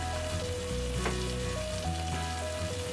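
Ground beef hits a hot pan already holding peas, carrot and potato for a meat roll filling, setting off a steady, close sizzle and frying crackle with a brief stirring scrape midway, no voices.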